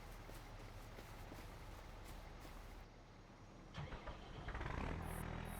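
A farm truck engine starts up near the end after a steady background rumble, cranking and then catching with a rising low roar, no talking.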